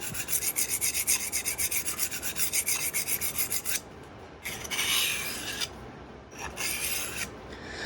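A knife blade is drawn along a coarse sharpening stone, starting with rapid rhythmic back-and-forth rasping strokes, then slower, longer gritty scrapes, close and steady with no voices.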